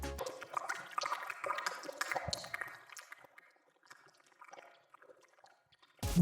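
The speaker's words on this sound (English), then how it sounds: "I put a bubbling liquid sound for the cauldron with a range so it sounds weaker" Bubbling liquid in a cauldron from a potion-mixing game, heard as soft wet gurgles that grow fainter and sparser, then a brief louder burst at the very end.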